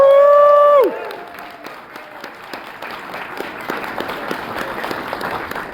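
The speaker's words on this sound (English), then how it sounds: "a big round of applause for Ed" Panel audience breaks into applause and cheering for Ed right after a sustained loud whoop, then a crowd of hands claps steadily with scattered shouts, filling the room at a moderate distance.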